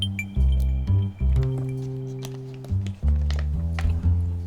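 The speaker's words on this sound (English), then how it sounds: "I need a sip of water." Glass clinks and taps a few times against a hard surface as someone picks up a glass of water for a sip, with short bright knocks, a soft squishy handling sound and a faint swallow close up.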